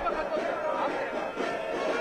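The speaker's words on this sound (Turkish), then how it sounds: "Özellikle rehine aileleri konuşmalar yaparken muazzam bir kalabalık var." A large protest crowd in Tel Aviv murmurs and chatters at a distance, a steady dense wash of many voices with no single speaker standing out.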